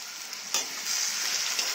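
Diced potatoes frying in a pan until reddish-brown, cooked for sabudana khichdi: a continuous close sizzle that swells after a brief stir, with no talking.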